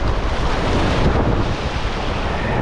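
Ocean waves break steadily on a Rhode Island shore, a loud, close, continuous roar of surf mixed with gusting wind on the microphone.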